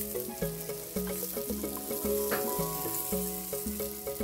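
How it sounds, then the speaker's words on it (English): Food sizzles steadily on a Korean grill plate set on top of a stove, a continuous frying hiss under tonal background music with occasional stirring clatter. "So this is the Korean grill plate. So you just put it on top of your stove and you can grill anything."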